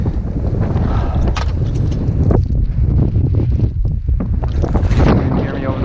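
Strong wind roars across the microphone on a 4802-foot mountain summit in icy early spring, a loud, continuous blustery rumble with gusts surging and easing throughout.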